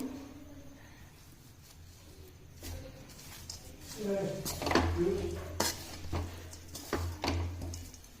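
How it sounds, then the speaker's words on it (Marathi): Methi dry fruit laddu mixture with seeds and nuts stirred in a pan, close scraping and shuffling strokes with clinks of the spoon that grow busier and louder midway, under a speaking voice. "आता हे छान मिक्स करून घ्यायचं आपल्याला."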